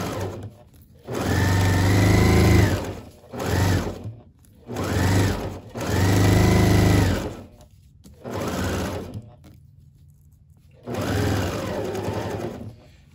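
A sewing machine stitches a seam on a tea towel pillow in close, loud whirring bursts of a few seconds each, separated by short pauses.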